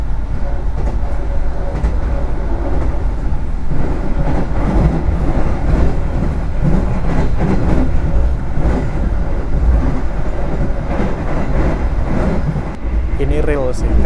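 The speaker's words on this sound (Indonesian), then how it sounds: "kerasa banget kereta api Blambangan Express tuh ngebut banget, tetapi sayang untuk rangkaiannya saat dibawa dengan kecepatan tinggi itu tuh berisik dan gemblodak banget" Blambangan Express train running fast on the line along the Java coast, carriages rattling and clattering continuously from inside, loud and steady, with occasional talking.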